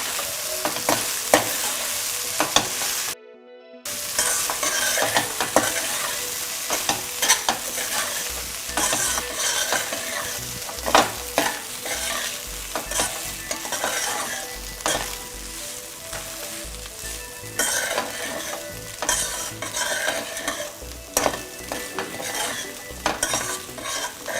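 Rice going into a hot pan and being stirred for beetroot pulao gives a continuous close sizzle and frying hiss, broken by scraping stir strokes and brief clinks, with a short silent gap early on and no talk.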